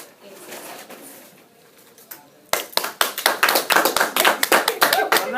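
Hands clap in a quick irregular burst that starts abruptly and continues loudly and unevenly, with faint murmuring before it begins.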